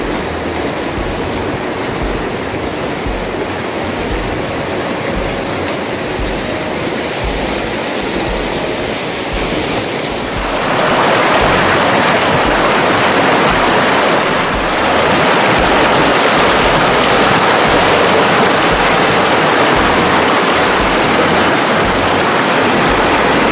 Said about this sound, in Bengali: নদীর কুলুকুলু শব্দ প্রাণ মন একদম ভরিয়ে দেয়।